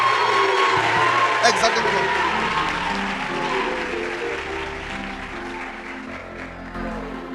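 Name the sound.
audience applauding and cheering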